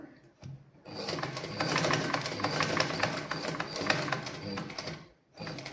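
A sewing machine stitches cloth in a tailoring lesson, running in one steady mechanical whir for about four seconds, close and moderately loud, then stopping briefly and starting again.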